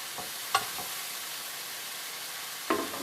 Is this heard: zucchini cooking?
yes